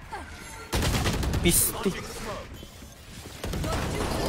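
Shotgun blasts and rapid gunfire crack through a tactical shooter game match, loud and close, with a mechanical clack among the shots, while a player's voice briefly speaks over the action.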